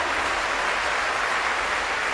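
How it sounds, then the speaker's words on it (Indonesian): A large audience claps loudly and continuously, a dense steady roar of applause with no pauses or voices. "Lebih keras lagi tepuk tangannya."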